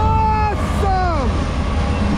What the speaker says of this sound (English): This is 22X with a Wells Fargo locomotive.